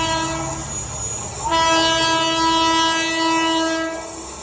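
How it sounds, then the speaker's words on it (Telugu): A passing Rajdhani Express sounds its horn nearby in two loud sustained blasts, the second longer, over a low rolling rail rumble. "నాకు తెలిసి రాజధాని ఎక్స్ప్రెస్ క్రాస్ ఓవర్ అనుకుంటా."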